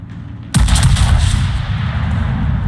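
Gunfire from the ship Georgia in a naval video game opens up abruptly on a Liberty ship: a sharp blast followed by a dense, rumbling barrage of overlapping shots, loud and close, without speech.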